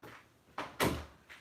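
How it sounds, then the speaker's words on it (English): A door bangs shut indoors, a few quick wooden knocks and one solid slam close by, with short thuds spaced around it and no talking. "if you hear the door slamming"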